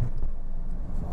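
A car engine hums steadily from inside the vehicle while driving a narrow, winding road, with a low, even drone and road rumble heard over a brief moment.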